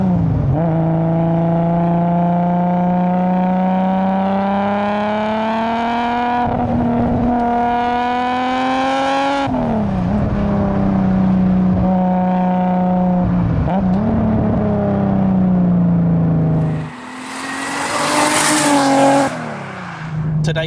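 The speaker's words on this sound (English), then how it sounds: "Today's orchestra is a full turbo-backed titanium system, and it actually makes a distinctly different sound to cars with the twin turbo setup still intact." A 620 bhp single-turbo Nissan Skyline R32 GT-R with a full turbo-back titanium exhaust, loud and close, holding long rising rev pulls with sharp drops between them, then a brief roaring burst near the end.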